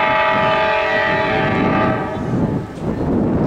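An Amtrak P42DC locomotive hauling a passenger train passes at about 25 mph in Thomasville, its horn blaring loud and sustained over rumbling wheels, fading slightly near the end.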